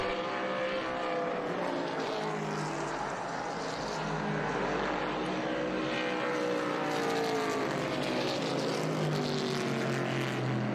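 V8 Trans Am race cars roar past at WeatherTech Raceway Laguna Seca, a continuous loud engine drone with shifting pitch sweeps as several cars come through, no talking.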